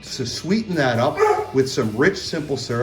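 A dog yips and whines in short, whimpering barks during cocktail-making in a home kitchen, close and fairly loud, overlapping someone talking.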